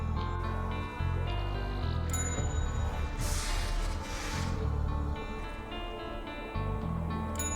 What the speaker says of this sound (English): You'll hear a completion noise when the bell is hit correctly